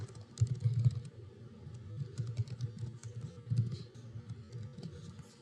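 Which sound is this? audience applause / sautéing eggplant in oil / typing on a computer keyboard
typing on a computer keyboard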